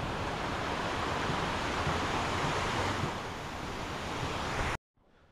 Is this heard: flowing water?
yes